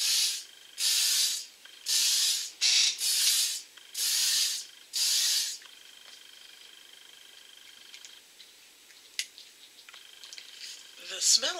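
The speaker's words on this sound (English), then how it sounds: "I am going to try this new setting spray." A new La Cura Photo Fit setting spray misting from a bottle, six close hissing sprays in quick rhythmic bursts over the first five seconds, followed by quiet handling noise and faint rustling.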